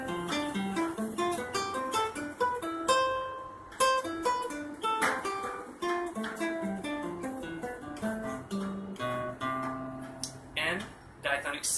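Guitar scale played in diatonic sixths, paired notes climbing and descending in an even, steady rhythm, close and clear with no talking.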